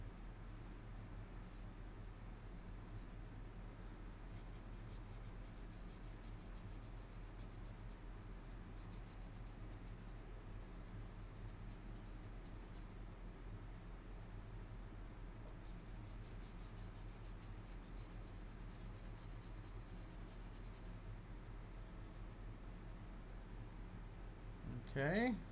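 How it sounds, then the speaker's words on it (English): Pencil on paper while sunflowers are sketched at a drawing session, a steady soft scratching and rubbing that runs almost without pause and stays close and quiet over a low background hum. "Can you see what the artist is drawing?"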